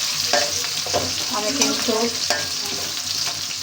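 Potatoes frying in a pan for a home-cooked curry, a loud continuous sizzle with stirring scrapes and clinks throughout, and a brief voice speaking over it near the start.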